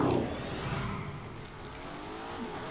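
Lamborghini Urus with its turbocharged engine pulling up a hill, a steady low, fairly quiet engine drone under load with a faint rising tone, no voices.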